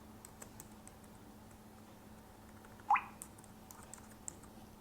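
Typing on a computer keyboard, faint light key taps scattered quietly with one sharper click near the middle, over a low background hum.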